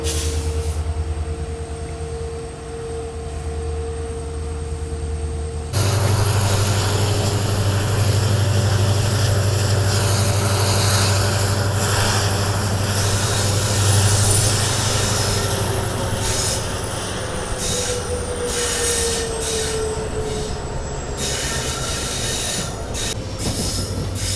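A diesel train rumbles and pulls away from a station in the Thar Desert, its wheels squealing on the rails over a steady mechanical drone, growing louder partway through.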